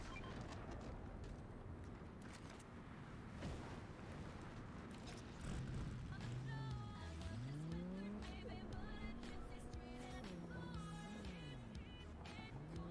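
Car driving in Fortnite on PS5, a steady engine drone with rising and falling pitch sweeps as it speeds along, loud and continuous with no talk.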